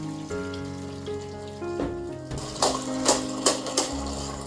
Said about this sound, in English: I pour out the first water.